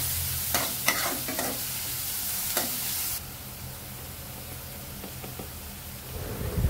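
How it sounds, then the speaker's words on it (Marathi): Sliced onion sautés with salt in a pan. A loud, close sizzle carries a few spoon scrapes, then drops to a quieter simmering hiss partway through. "कांदा आपला चांगला परतून घ्यायचा"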